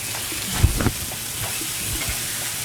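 Smash burger patties fry on a 36-inch Blackstone griddle with a steady, close hiss and sizzle, broken by a few soft scraping knocks near the start; nobody talks.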